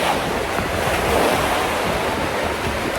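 Steady roar of sea surf on the beach at Nesebar, Bulgaria, with strong wind buffeting the microphone, continuous broadband rush with no talking.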